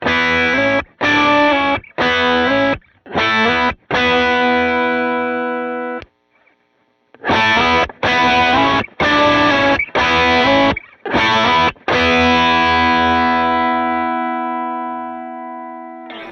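Electric guitar played through a Chandler Germanium Drive boost pedal, loud overdriven chords struck in choppy rhythmic bursts with a short pause, then a final chord left to ring out and decay, close and alone.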